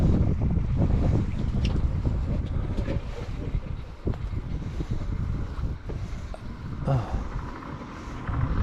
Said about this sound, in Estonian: See pani jõle kraginaga oma selle 2-taktilise mootori käima.